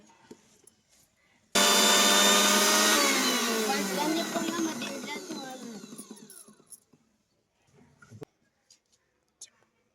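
A kitchen mixer grinder grinds biscuits and sugar for a homemade cake; the loud whirring roar starts abruptly, holds for several seconds, then winds down and stops, followed by faint clicks and quiet sounds.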